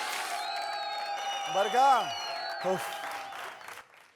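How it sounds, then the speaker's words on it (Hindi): A studio audience on a televised comedy show applauds and cheers as a guest enters, a steady wash of clapping that swells in bursts beneath a host's voice and musical tones. "जोरदार तालियों के साथ स्वागत कीजिए"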